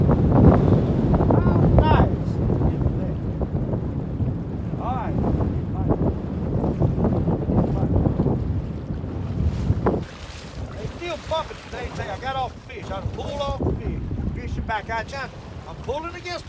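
Strong wind buffets a small fishing boat on open water during white perch fishing, a loud, continuous rumbling roar that eases slightly partway through and carries on steadily.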